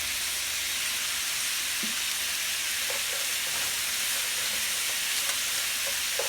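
Tofu stir fry sizzles steadily in a hot pan, a continuous hissing fry with faint scrapes and clicks from stirring scattered throughout, close and even in level with nobody speaking.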